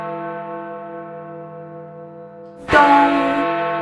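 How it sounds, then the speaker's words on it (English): Big Ben striking the hour over the River Thames by the Houses of Parliament: a single loud, sharp bell strike enters late after a long steady tone and rings on with a bright, sustained decay. "Big Ben chimes."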